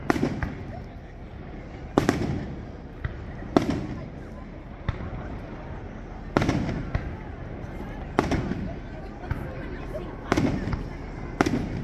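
Canada Day 2023 fireworks burst outdoors in a steady series of sharp booms and crackles over about twelve seconds, some near and loud, with people talking throughout.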